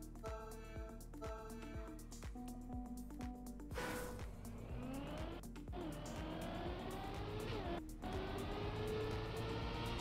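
A race car in a Trackmania-style racing game revs through rising gear shifts, then slides into a drift with sustained tire squeal and engine whine, the motor held high and steady to the end.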